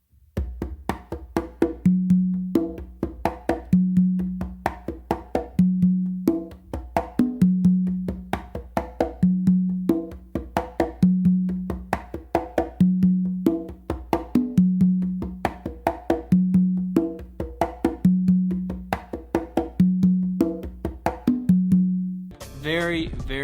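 Congas played in a steady songo groove across three drums, close slaps and ringing open tones on the tumba repeating in a tight cycle, loud and near with no voices over it.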